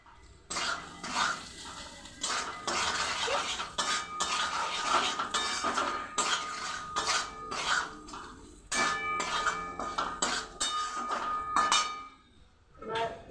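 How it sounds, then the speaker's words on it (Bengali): Spices stirred in a cooking pan make rapid clattering scrapes of a metal spoon against the pan, close and busy in bursts with short pauses. "সব মশলা দিয়ে এবার একটু করে নাড়িয়ে নেবো।"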